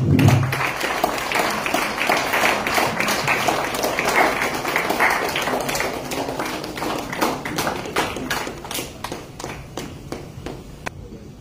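Audience clapping at a Marathi book-release ceremony honouring dignitaries on stage, a steady dense patter of many hands that carries on for the whole stretch and eases off slightly toward the end.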